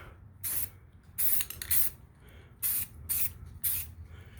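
Spray can hissing in short, close bursts as red paint goes on brake calipers in a light coat, six or so passes of about half a second each with quiet gaps between.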